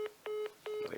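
Three short, clear electronic telephone dialing beeps in even succession, close and alone, with a fainter tone at the end.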